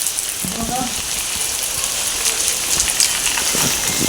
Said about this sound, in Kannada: ಇವಾಗ ಮೊದಲು ಮಳೆ ಬರ್ತಿರುವಾಗ ಅದರೊಂದು ಪರಿಮಳ ನೋಡಬೇಕು ತುಂಬ